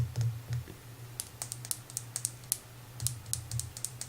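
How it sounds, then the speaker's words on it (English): A lip balm tube being opened and closed up close, giving a run of sharp, crisp little clicks and snaps in irregular bursts over a low steady hum, with no talking. "I love lip balm tubes and the sounds they make."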